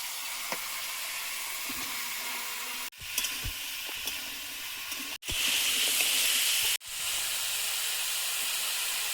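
Five-spice seeds, turmeric powder and salt hit hot oil in a pan, giving a steady broadband sizzle and hiss that jumps louder in abrupt steps as each spice goes in, with a few faint clinks.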